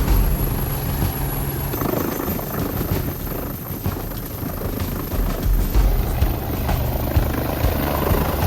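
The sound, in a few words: AW109 naval helicopter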